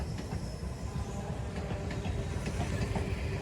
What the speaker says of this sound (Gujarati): કારણ કે અહીંથી હમણાં ટ્રેન નીકળશે.